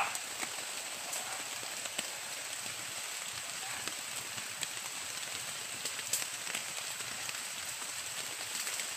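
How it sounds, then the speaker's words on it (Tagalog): Heavy rain pours down in a steady, dense hiss, with scattered louder drops pattering on a nearby surface throughout. "malakas yung ulan tol, pero laban lang"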